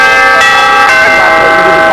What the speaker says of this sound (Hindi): लेकिन घंटी बज चुकी है